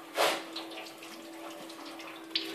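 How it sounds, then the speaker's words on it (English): Fluid pours out of a pulled-back hose during a Cavalier engine removal, a soft continuous trickle and splash with a short gurgling burst at the start, faint and without talk. "this is me pulling the hose back so it pours out"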